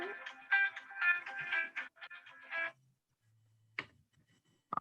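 A phone rings during an online call: a run of bright electronic ringtone chirps in quick bursts for about two and a half seconds, then quiet with a low hum and a brief click.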